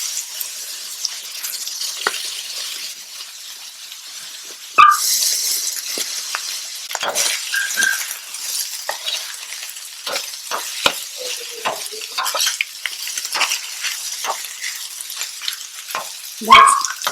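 Shrimp fried rice frying and being stirred in a pot gives a steady sizzle, broken by repeated scraping and clinking strokes and a few louder knocks.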